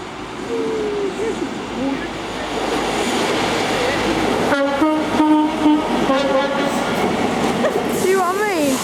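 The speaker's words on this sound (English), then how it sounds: "Yeah, it's a yellow train. It's high speed." A yellow high-speed passenger train rolls past, its horn sounding a few loud multi-tone blasts over a steady rumble of wheels, with people talking nearby.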